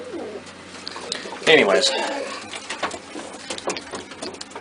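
A pet bird coos softly while nibbling at a person's finger, with low throaty calls and faint clicky chewing sounds up close, and a person speaks briefly over it.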